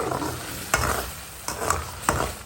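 Bottle gourd (lauki) curry cooking in a pan, with a steady sizzle and three sharp stirring scrapes of a spoon against the metal spaced about a second apart, close and moderately loud with no talking.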